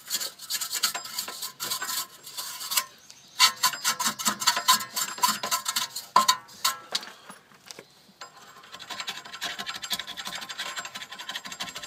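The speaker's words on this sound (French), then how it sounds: "bien nettoyer avec une brosse métallique, avec tout ce qu'on veut, quoi, pour enlever tout ce qui est poussière, tout ce qui est rouille" A wire brush scrubs rust and dust off a rear brake hub on an Opel Zafira A, making close rapid rasping strokes in bursts with brief pauses between passes and no talking.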